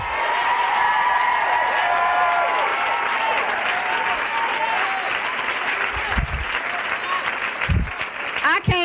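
Applause fills the room at a Narcotics Anonymous gathering, loud continuous clapping from the crowd with a voice speaking over it and sharper bursts near the end.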